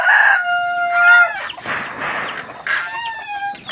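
Aseel chickens in a backyard pen, with a rooster crowing loudly and close while hens cluck in between.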